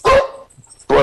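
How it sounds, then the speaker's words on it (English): A dog barks loudly and close by in a home during a remote planning commission meeting call, two sharp barks at the start and end with a quiet gap between them. "Sorry, my dog is barking."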